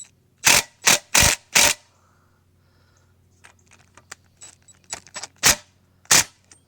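A wrench works a castellated nut on a 1993 Johnson 40hp outboard, giving four sharp, loud metallic bursts in quick succession. A pause follows, then scattered softer clicks and two more strong hits, all close up.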